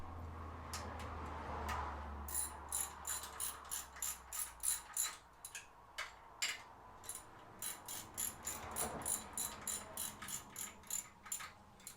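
Quick repeated ratchet clicks in short bursts as the tension bolt on a T7 Designs alternator relocate kit for a K20/K24 engine is tightened, close and fairly quiet, with brief pauses between strokes.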